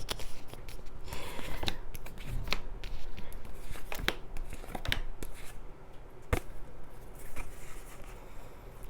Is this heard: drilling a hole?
no